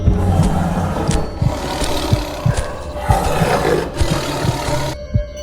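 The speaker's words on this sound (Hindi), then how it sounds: "ये तो शेर की आवाज है।" A lion roars in a forest setting, a loud rumbling growl with deep pulsing grunts, heard close up and sustained over several seconds.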